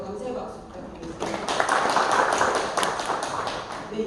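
Applause from the audience at a Chungcheongbuk-do provincial council policy forum, a steady patter of clapping that swells after the first second and stays fairly dense and close.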